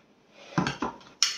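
A spoon clinks and scrapes against a dish or jar a few times while scooping peanut butter for a sauce for fried vegetable rolls, close up with sharp metallic taps and no talking.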